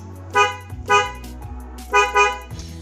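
A repaired car horn on a 2010 Toyota Xenia honks in four loud, close blasts, arriving in two pairs of short toots, with faint low engine hum between them.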